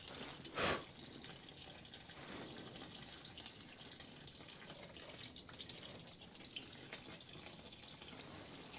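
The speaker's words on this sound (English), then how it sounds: "And we're gonna get all this fuel pouring out." Fuel trickles steadily out of an old Mercedes 300CE AMG into a container inside a garage. The flow makes a continuous, even watery hiss and patter, with one brief louder splash near the start.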